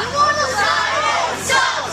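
A wrestling crowd at an indie show in Florida shouts angrily at a wrestler, a loud dense mass of jeering voices that swells briefly near the end.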